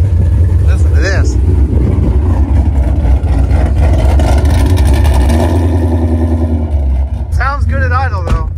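Ford Mustang GT S550 exhaust idles with a deep, steady, close rumble and a slight rise in revs, while someone talks over it throughout.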